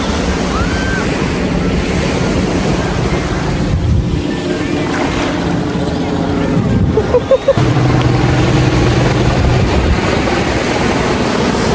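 Ocean waves roll onto a beach in cold weather, making a steady loud surf wash with heavy wind buffeting the microphone and brief talk now and then.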